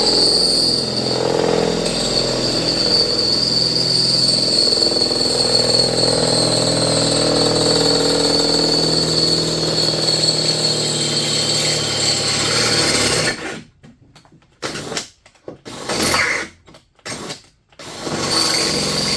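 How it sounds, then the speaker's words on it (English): Power drill boring out a part for a Yamaha Drive G29 golf cart rear seat, a loud continuous whine for about thirteen seconds, then several short stop-start bursts. "So let's drill this out."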